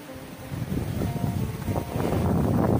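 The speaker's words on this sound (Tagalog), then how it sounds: "Lakas ng hangin." Strong typhoon wind gusts across open farm fields, a rough, rumbling rush that buffets the microphone and builds louder toward the end, with no voices.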